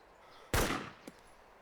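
A single sharp rifle gunshot in the DayZ video game, loud and close with a decaying tail, followed by a faint short echo or impact about half a second later.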